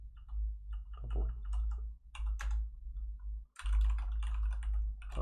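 Keys clatter on a computer keyboard in uneven bursts of typing, close and fairly quiet over a steady low hum, with short pauses between runs of keystrokes.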